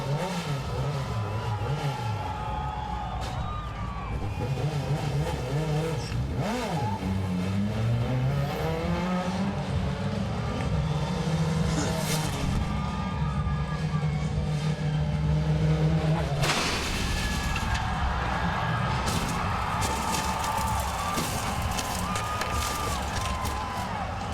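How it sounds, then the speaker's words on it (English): Engine of a truck driven by Rhys Millen revs and surges before a backflip attempt at a Las Vegas New Year's Eve stunt event, loud sweeping pitch changes under crowd noise, with a sharp jump in sound near the middle. "There it is, the thumbs up for Rhys Millen, trying to become the first to attempt a backflip in a truck"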